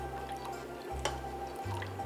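Liquid trickles slowly into a pot of milk while mozzarella cheese is being made from a kit, a faint, soft pour over a steady low background hum.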